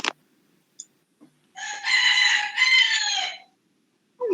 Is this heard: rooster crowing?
yes